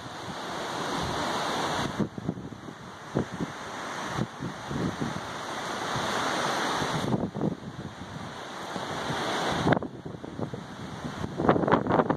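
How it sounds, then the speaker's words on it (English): Heavy wind gusts from Hurricane Matthew roar continuously into the microphone, surging and easing in waves of buffeting noise with no voices present. "It really is, you get some heavy gusts, I'll tell you that."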